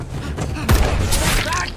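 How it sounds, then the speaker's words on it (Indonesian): A sniper's rifle shot rings out in a film scene, a single sharp boom standing out in a dense, loud soundtrack of layered effects and music. "Eric coba lari ke arah lain tapi ditembak terus"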